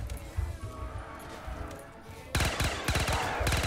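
Rapid bursts of gunfire from a low-ammo weapon in a Call of Duty Black Ops 3 zombies mod map break out in the second half, loud and clattering, after a quieter stretch of game ambience.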